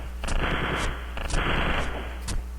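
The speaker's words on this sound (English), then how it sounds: "immediately back up and start firing and find cover quickly" Automatic gunfire rattles in the video game Wolfenstein 3D, coming in three quick bursts of rapid shots with short gaps between them, loud and close with no talking.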